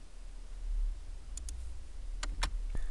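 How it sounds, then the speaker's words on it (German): Computer mouse clicks select menu elements in editing software: two crisp clicks, then a brief pause, then two more quick sharp clicks close up over a quiet low hum. "ich wähle diese mit der linken Maustaste an"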